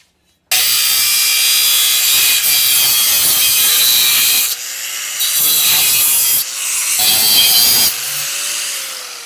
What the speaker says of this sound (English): let me get that rubber mount and grind all that garbagery off of it real quick